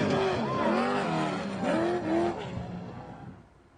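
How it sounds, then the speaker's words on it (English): Trophy truck driving during Baja 400 qualifying: a loud engine roar with rising and falling revs as it passes nearby, then fading into the distance over the last second or so, with an announcer's voice mixed in. "There's the Brenthal truck here making its way around, nice and smooth."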